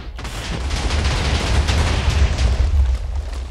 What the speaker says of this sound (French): je vais faire péter la TNT